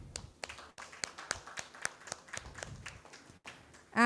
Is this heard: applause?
yes